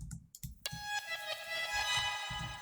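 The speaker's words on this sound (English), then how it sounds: "After that, I have this piano audio sample," Reversed piano sample: swelling, backward-sounding piano tones that fade in and cut off abruptly, with soft clicking pulses underneath, moderately quiet and without voices.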